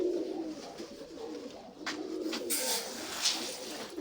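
Pigeons coo softly in a low, continuous murmur from a loft of birds, with a few brief fluttering or scratching noises over the top and no talk.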